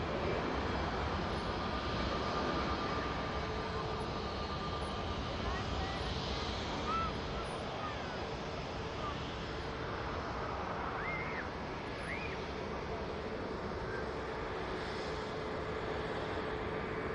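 An EasyJet Airbus A320 takes off at Manchester Airport, heard as a steady, fairly distant jet roar that holds evenly throughout, with a few faint chirps above it.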